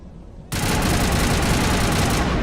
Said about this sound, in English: let's see how this assault rifle works